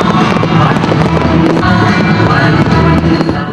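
Fireworks set off at Vientiane's 450th anniversary celebration in Laos, a loud, dense, continuous crackle of bursts and pops close by with crowd noise underneath and no speech.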